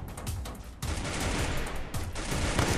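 Rapid bursts of gunfire from the mobile video game Free Fire crackle in dense, overlapping volleys, loud and continuous with brief dips between clusters of shots.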